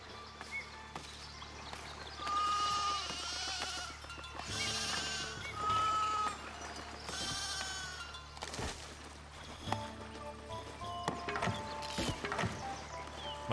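Sheep bleat in the medieval city-building video game Foundation, several wavering calls in a row at moderate volume over a low ambient hum, followed by scattered clicks and soft knocks.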